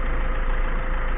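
Diesel car engine idling with a cleaning additive in its fuel, a steady low rumbling drone with a fast regular knock, close and even throughout with no talk.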